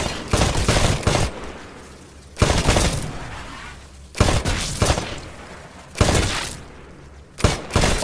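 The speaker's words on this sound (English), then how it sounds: "Switch to your rifle. Destroy all of the targets in the shooting range." Rifle fire at shooting-range targets in the game Titanfall: five or six short, loud automatic bursts spaced about every one and a half seconds, each ending in a brief ringing decay.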